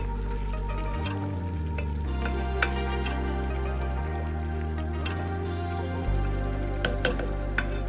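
Beef biryani being stirred in a pot, a soft bubbling sizzle over a persistent low hum, with intermittent scraping and a few clinks of the spoon against the pot, close and steady, no speech.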